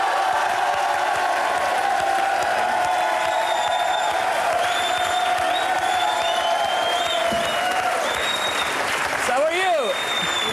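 A TV studio audience applauds steadily and loudly for about ten seconds as a guest is introduced, with cheers and whistles rising over the clapping and voices calling out near the end.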